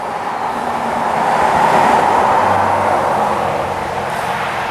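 A vehicle passes on a nearby back road highway in rural Ontario, a loud broadband rush that swells toward the middle and slowly fades, with no talk.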